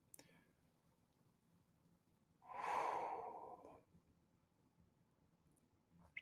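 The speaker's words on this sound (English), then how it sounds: "Let's take a deep breath in." A single slow, deep breath drawn in during a guided breathing exercise, a soft airy rush lasting about a second and a half, close and moderately loud, with quiet room tone around it and no talking.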